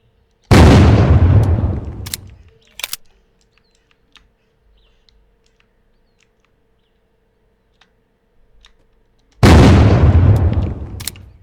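Two loud gunshots boom in the video game Unturned, each a heavy blast with a long decaying tail, separated by a quiet stretch holding a few faint clicks.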